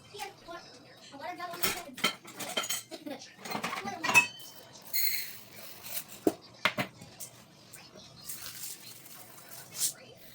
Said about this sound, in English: Pour this into the dry mixture and stir until the dough forms.